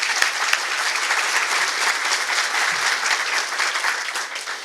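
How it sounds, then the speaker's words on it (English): A steady round of clapping from an audience at a county government event honoring sponsors, dense and even throughout, with a few sharper claps standing out near the start. "Quick round of applause for our sponsors."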